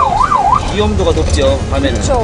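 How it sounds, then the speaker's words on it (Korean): An emergency vehicle siren wails in a rising and falling sweep through a city street at night, then cuts away as people talk over the running vehicle. "사이렌 소리가 도심의 정적을 깨우고."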